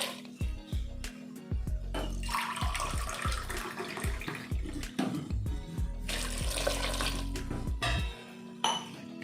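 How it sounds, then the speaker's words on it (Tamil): Water is poured from tumblers into a cooking pot holding cut white pumpkin, with sloshing pours and metallic clinks and knocks against the pot, fairly close and with no talk. "அதுக்கு 2 டம்ளர் தண்ணி ஊற்றிட்டு"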